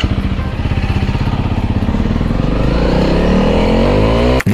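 A Honda CRF300L motorcycle rides offroad along the Váh river near Šaľa, its engine loud and close with a steady pulsing note that rises as it accelerates, and a sharp dip at the end.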